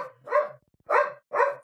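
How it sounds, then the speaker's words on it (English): A dog barks three times in steady succession, the barks mid-loud and fairly close, with short quiet gaps between them and no talking over them. "I might have to close that door because that dog's not going to shut the hell up"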